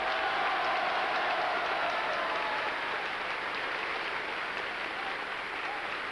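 A large crowd gives Stalin a long, unbroken ovation, dense applause rolling on steadily at an even level from start to finish.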